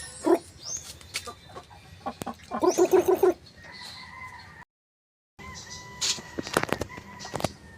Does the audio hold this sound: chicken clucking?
yes